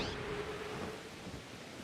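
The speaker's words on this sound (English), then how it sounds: "The rain shows no signs of stopping." Steady rain hisses with a low rumble of thunder rolling underneath in the video game Pokemon Legends Arceus, a soft continuous wash with no voices.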